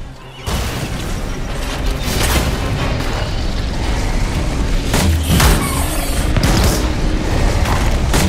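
Sustained loud booms from a grenade launcher in the video game Anthem, with rumbling blasts and mechanical clatter rolling on for about eight seconds after a sudden start.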